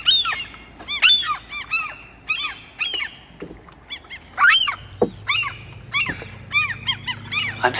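Waterfowl on water in Soldotna, Alaska, give a run of repeated honking calls, near and fairly loud, in irregular bursts with short gaps and a low watery rumble beneath them.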